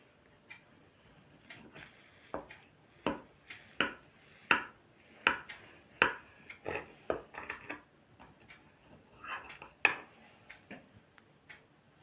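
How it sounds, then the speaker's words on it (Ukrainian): A knife slices through a soft homemade charlotte apple cake, giving a quiet series of irregular taps and soft scrapes against the plate or board, close and isolated with no talking. "Ось така шарлотка у нас вийшла. Зараз будемо різати."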